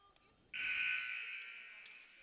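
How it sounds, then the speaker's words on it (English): A basketball game buzzer sounds in a high school gym for Bull City Prep versus Mt. Zion. One loud, harsh, sustained electronic blast lasts nearly two seconds and then fades slightly, with faint gym noise before it. "There's your buzzer."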